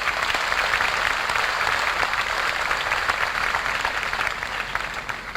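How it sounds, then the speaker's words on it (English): Dense, steady audience applause at a 1987 junior high school graduation ceremony, loud and continuous from start to finish, tapering only slightly at the end. "Let's give them a warm round of applause."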